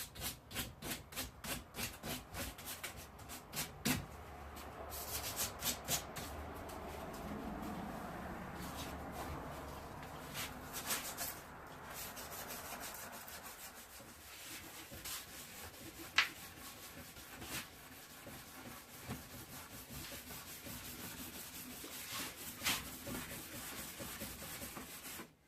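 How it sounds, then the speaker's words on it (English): Faint, steady abrasive rubbing as 120-grit sandpaper works oxidation off a pure zinc countertop in a shop, continuous strokes with a few small knocks, quiet and close with no talk. "I hit it with the 120, tried a few different sanding techniques, even a electric sander."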